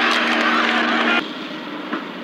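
Jet aircraft engine roar from the 1975 film Dog Day Afternoon, a loud, steady broadband whine and rumble that drops abruptly partway through to a quieter hum.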